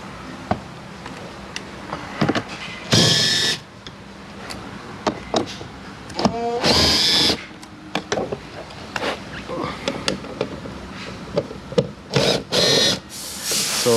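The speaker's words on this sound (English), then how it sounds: "I'm gonna use impact." An impact drill removing door panel screws on a Chevy Malibu, firing in several short, loud whirring bursts separated by quieter handling clicks and rustling, close to the microphone.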